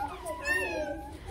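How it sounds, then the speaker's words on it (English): A cat meows once in a drawn-out, tonal cry that rises and then falls, fairly close and clear over low background noise, in a children's story setting. "It says, meow."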